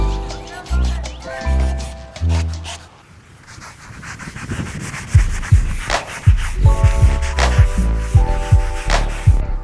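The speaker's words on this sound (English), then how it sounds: "Y'all done sanding yet?" Sanding sponges rub rhythmically over wooden beds, producing repeated close scratchy strokes, while people talk over parts of it.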